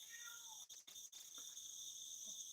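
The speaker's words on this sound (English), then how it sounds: "Can you hear the cat?" A cat meows out in a garden on a morning outdoors, a few soft calls breaking through a steady high insect or cricket drone with no talking.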